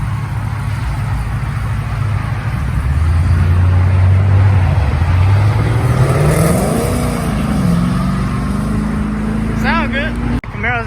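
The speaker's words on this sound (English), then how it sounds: "He started revving that thing" A Chevrolet Camaro at a car meet gives loud, close engine revs that climb sharply in pitch and fall back over a steady idle, with people talking over it throughout.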